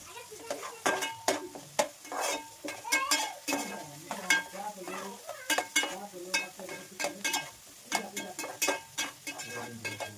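Two onions frying in oil with turmeric and salt for a Chennai-style fish curry, sizzling under busy stirring with repeated clinks and scrapes of a spoon against the pan, close and moderately loud.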